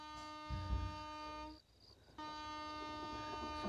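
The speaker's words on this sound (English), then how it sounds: "Dadar to Kalyan Junction. So it's a local train journey." Mumbai fast local train running from Dadar toward Kalyan Junction in a train simulator game, a steady rolling rumble with sustained horn-like tones that drop out briefly mid-clip and then return.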